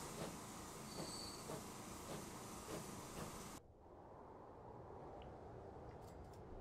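Freight trains hauling iron ore and coal in the Transport Fever 2 video game rumble past with rolling wheel clatter and squeal, loud and steady, then cut abruptly to a quieter distant rail hum.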